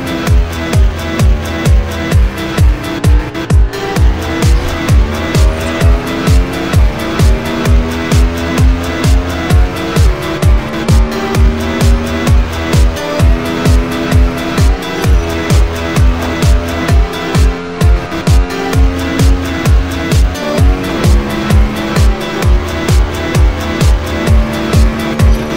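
Motorcycle riding in the racing game Test Drive Unlimited 2, on a bike with a 312 km/h top speed: a loud, steady engine drone with a fast regular pulse, mixed with game music, continuous throughout.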